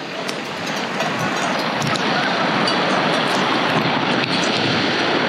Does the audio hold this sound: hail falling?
yes